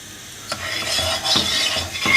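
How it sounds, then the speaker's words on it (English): Sugar is stirred in a pan with orange juice until it melts, with close soft scraping strokes of a spoon at an even rhythm over a light sizzle. "we're just wanting to stir this until the sugar melts"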